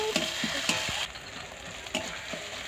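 Cumin and coriander paste hits a pan of fried onion, ginger and garlic, giving a steady close sizzle with a few clacking stirs early on and a brief swell of frying partway through.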